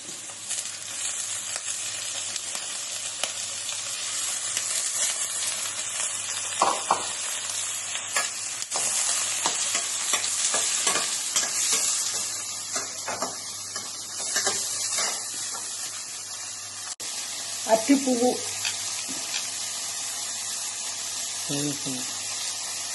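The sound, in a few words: banana flower being stir-fried in tempering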